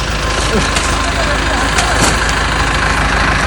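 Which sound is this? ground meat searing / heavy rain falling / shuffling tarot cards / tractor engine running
tractor engine running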